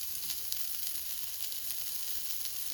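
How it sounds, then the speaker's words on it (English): Steady, crackling sizzle of sausages frying in a pot, a continuous bright hiss with small pops, fairly close and with no talking. "So our sausages are starting to sizzle and they'll be ready momentarily."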